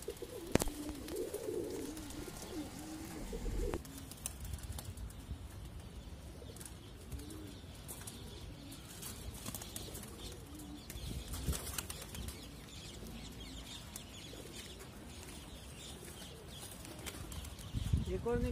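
Pigeons flutter and flap their wings in bursts against a busy outdoor background, with faint cooing and distant voices mixed in.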